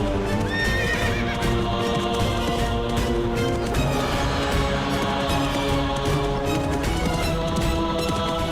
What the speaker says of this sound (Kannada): ಯಾರೋ ಕುದುರೆ ಮೇಲೆ ಈ ಕಡೆನೆ ಬರ್ತಿದ್ದಾರೆ